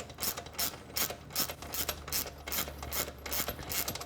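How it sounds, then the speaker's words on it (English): A 16mm socket ratchet loosening a bolt on a Triumph Street Scrambler 900 motorcycle: a close, steady run of about a dozen rapid clicking ratchet strokes in even rhythm, loud and alone without talk. "Using our 16mm socket, break that loose."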